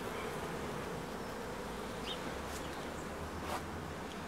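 Honeybees hum in an open beehive full of capped honey stores, a soft steady buzz with the occasional louder bee passing close by, faint and alone with no talking.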